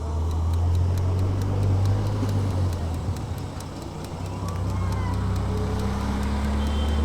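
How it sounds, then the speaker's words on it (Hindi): An Oben Rorr electric motorcycle accelerates from a standstill in economy mode, a steady rising motor whine under heavy wind and road roar, with a regular ticking pulse throughout. "अब हम देख लेते हैं कि इकोनॉमी मोड पे 0 से 40 कितनी देर में जाता है।"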